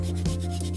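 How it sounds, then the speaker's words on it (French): An eraser rubs briskly on paper in one short, close, continuous scrubbing stroke with a soft friction texture. "vous pouvez gommer"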